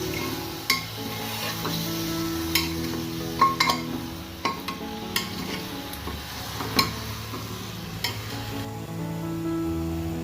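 Chicken stirred in a hot pan with paste, salt and turmeric, sizzling steadily throughout with scattered scrapes and clinks of a utensil against the pan, close and alone with no talk.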